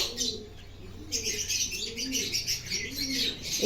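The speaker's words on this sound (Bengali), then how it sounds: "এই ঘরে যে কটা পায়রা রয়েছে" Pigeons coo softly inside a loft, repeating low, rolling calls at a steady rhythm, with light chirps and rustling above. The sounds are close but fairly quiet.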